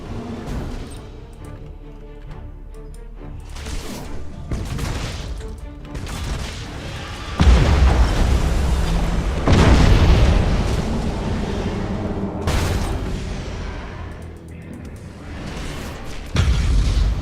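Warships trade fire in the space battle game Battlefleet Gothic Armada 2, with a string of heavy booms and crashing explosions between quieter rumbling stretches, several loud impacts landing close together.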